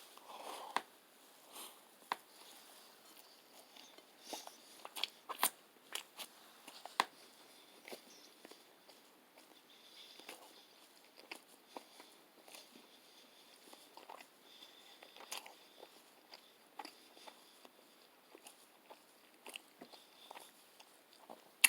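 Someone chews a plant-based jumbo hot dog in a bun with ketchup and mustard, giving soft, irregular crunchy bites and mastication sounds close to the mic, quiet and steady throughout with no talk.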